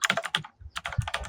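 Rapid clicking keystrokes on a computer keyboard while entering text into a table in MS Word, close and quiet, in a short burst with a brief pause in the middle.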